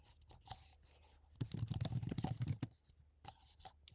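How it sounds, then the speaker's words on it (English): Fingers tap a computer keyboard up close: scattered single key clicks, then a dense burst of rapid typing in the middle, and sparse taps again toward the end. "I'm sorry if my typing's loud."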